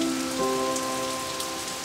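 Steady rain pours outside a cave as a dense, even hiss of falling drops, continuous and close. A faint sustained tone hums beneath it, and nobody speaks.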